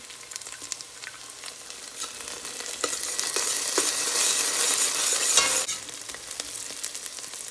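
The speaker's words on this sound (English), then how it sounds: "Next we'll add our garlic." Garlic frying in a pan with onions, sizzling steadily while a utensil scrapes and stirs, the hiss swelling louder in the middle before easing back.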